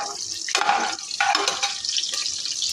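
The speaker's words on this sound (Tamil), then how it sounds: "வெங்காயம் ரெண்டு வெங்காயம் மிளகாய் ஒரு மிளகாயும் போட்டு நல்லா ஃப்ரை பண்ணி எடுத்துக்கோங்க" Two onions and a green chili fry in a pan for vegetable biryani, giving a close, hissing sizzle broken by a few scraping stirs.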